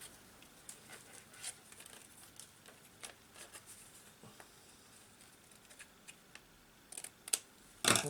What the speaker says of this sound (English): Smaller scissors might be better.